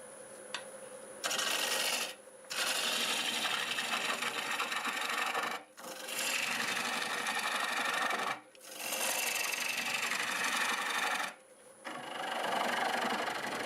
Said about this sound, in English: we can go back to the gouge now